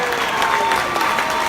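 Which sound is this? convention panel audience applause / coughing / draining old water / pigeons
convention panel audience applause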